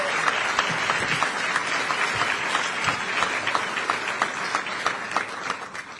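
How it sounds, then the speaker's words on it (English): At a U.S. Army Medical Center of Excellence change-of-command ceremony, a crowd gives moderate applause, individual claps audible and somewhat uneven, continuing steadily for about six seconds before tapering slightly. "Please, round of applause."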